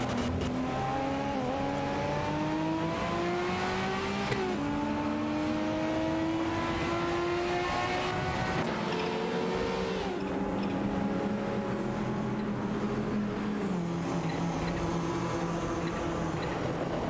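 Ford Sierra RS 500 race car engines in a sim racing video game, a steady loud drone of several cars with rising and falling harmonic pitch sweeps as gears shift, continuous throughout with no talking.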